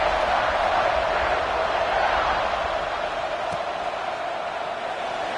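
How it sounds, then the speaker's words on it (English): Stadium crowd at a college football game in NCAA 26, a steady broad roar and murmur holding at even loudness for several seconds with no break. "this crowd is buzzing after that last score"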